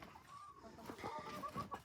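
Chickens in a coop clucking in short, uneven bursts, close and moderately loud, several birds overlapping over a quiet background.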